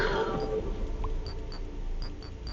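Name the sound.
cat meowing from cat block in video game Lucid Blocks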